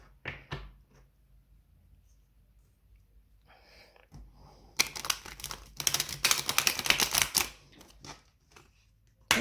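Thick tarot cards are riffled and shuffled in a few rapid bursts, crisp flapping clatter close by, separated by quiet pauses and small handling noises.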